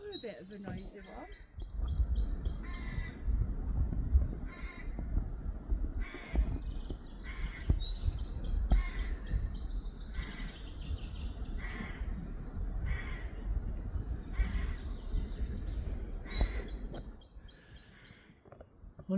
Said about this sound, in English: Only a small bird, wasn't it? But it's a noisy one. I wonder if that's a song thrush.